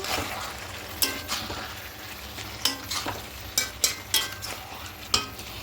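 Lentils, vegetables and fried prawns are stirred in a pan over a low sizzle, with a series of irregular spoon scrapes and clacks against the metal every second or so, and no speech.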